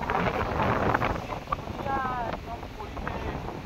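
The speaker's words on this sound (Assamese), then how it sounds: "বতাহ কি ধুনীয়া মাৰি আছে মানে বতাহ মাৰি থাকে" Wind blows steadily across an open grassland setting at Kaziranga National Park in Assam, buffeting the microphone with a continuous rushing roar, with faint, indistinct voices in the background.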